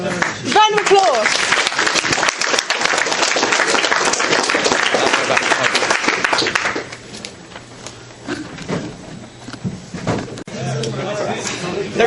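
An audience applauds after a final presentation, a dense burst of clapping that fades out about halfway, leaving room chatter, scattered knocks and people talking.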